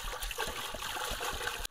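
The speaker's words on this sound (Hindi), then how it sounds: "अब इसे हंडी के अंदर पानी डालेंगे" Water poured into a handi cooking pot outdoors while a spiced chicken curry is prepared, a steady splashing trickle that stops abruptly near the end.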